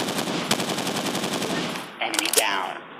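Rapid automatic gunfire from Modern Flag Forces, a mobile FPS shooter on Android, rattles in a steady fast stream, loud and close, then gives way to a brief clatter near the end.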